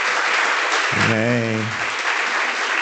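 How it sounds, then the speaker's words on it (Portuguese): A church congregation at a Sunday evening service applauds loudly and continuously, while a voice briefly speaks over the clapping midway through. "eu queria que Ellen ficasse de pé, recebesse as palmas da nossa igreja"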